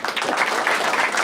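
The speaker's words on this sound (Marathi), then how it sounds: "एकदा जोरदार टाळ्या वाजवा" Stand-up comedy audience applauding a special guest, a dense steady wash of many hands clapping close by, filling the whole short moment without a break.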